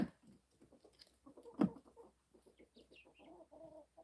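Soft, scattered clucking from a few chickens close by, with a brief louder squawk in the middle and quiet pauses between calls.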